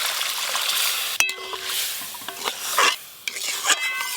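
Water splashes into fried spice masala in a pan for a shankar (stingray) fish curry, with a sharp clatter early on, then hissing, bubbling bursts and stirring scrapes close by.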